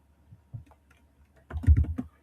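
Computer keyboard typing, a few soft scattered keystrokes followed by a quick, denser burst of clicks, close and fairly quiet.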